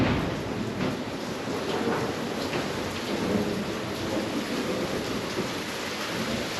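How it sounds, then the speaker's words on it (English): Heavy rain pours down in a thunderstorm, a dense continuous hiss with low rumbling thunder rolling underneath, loud and close throughout, with no voices. "I don't know if you guys heard that lightning or that thunder. But yeah, it's super raining"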